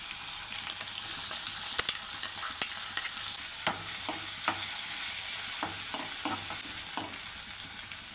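Ginger sizzles in hot coconut oil while a utensil stirs and scrapes the pan, steady loud frying with repeated sharp clicks from the stirring, no voices.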